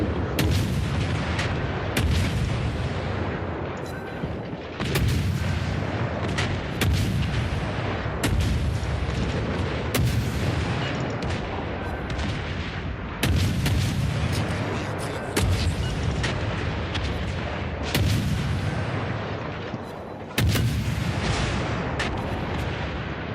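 Naval guns fire from the rear batteries of a warship in the World of Warships video game: heavy booming salvos come roughly every few seconds, each a loud blast with a rumbling tail, and the battle noise carries on between them.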